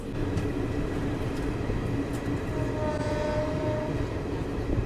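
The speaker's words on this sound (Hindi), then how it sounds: "डाल्टनगंज के प्लेटफॉर्म नंबर 1 पे अपना अराइवल हो रहा है।" The Garib Rath Express, New Delhi–Ranchi ICF rake, rolls into Daltonganj platform 1 with a loud steady rumble of wheels and carriages, faint tonal squeal near the end, no voices.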